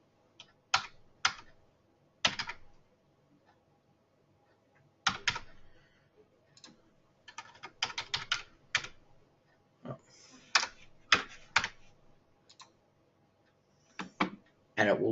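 Irregular bursts of keystrokes clatter on a computer keyboard, close and clear, with short pauses between flurries of typing in a quiet room.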